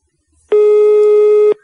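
Telephone line tone on a call to a landline, a single loud steady tone lasting about a second with a clean start and stop, alone with no talk over it.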